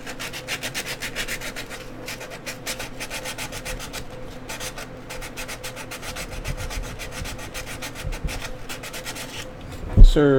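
Sandpaper on wooden sticks is rubbed back and forth in a fast, steady rhythm of close rasping strokes that runs throughout, ending in a sudden knock.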